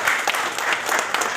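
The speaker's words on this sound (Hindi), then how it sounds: "प्लीज एक जोरदार ताली" Steady, loud applause fills an indoor gathering, with many hands clapping densely and evenly throughout the brief moment and no voices rising above it.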